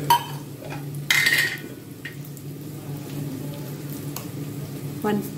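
Ginger garlic paste hitting browning onions in a hot pan gives a steady sizzle with a few utensil scrapes and clinks, loud and close throughout.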